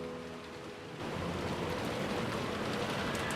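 Steady rain falls in the Umineko visual novel game. A quieter opening with a faint background tone gives way after about a second to a full, close hiss of rain that continues evenly to the end.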